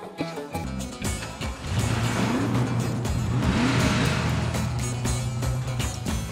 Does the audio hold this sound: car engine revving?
yes